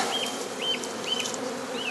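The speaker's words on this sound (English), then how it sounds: "They're an Italian type of bee." Italian honeybees buzzing steadily in a dense, close swarm after a hive frame is shaken out in a dairy farm setting, a continuous hum with no talk.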